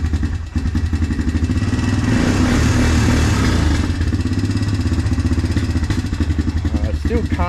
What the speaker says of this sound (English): Still kind of got a bit of a hesitancy when you give it revs